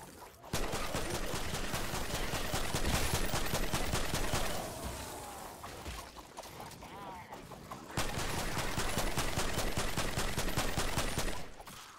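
Primal Rifle gunfire in the video game Fortnite Save the World, a fast, steady stream of close, rapid shots in two long bursts separated by a softer gap of a few seconds with other game noise.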